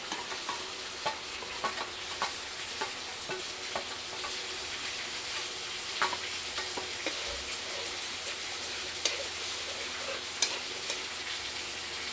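Onions, bay leaf and dried chilies stir-frying with turmeric and chili in a village kitchen, a steady close sizzle running throughout with frequent small scraping ticks of stirring.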